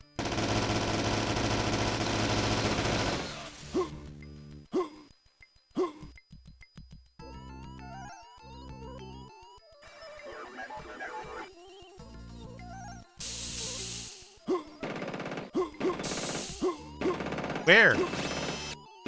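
Gunfire in System Shock Enhanced. A sustained burst of automatic fire is followed by scattered shots, bleeps and clanks of game effects, with a few spoken moments between them.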